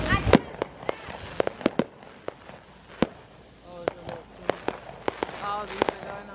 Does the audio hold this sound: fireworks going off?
yes